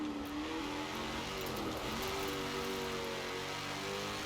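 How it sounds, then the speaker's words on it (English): A Rover SD1 V8 engine in the racing game Forza Horizon 4 holds a steady, throaty drone, its pitch wavering slightly up and down as the revs shift, without any talk. "I cannot get over how good this car sounds compared to some of the other V8 cars."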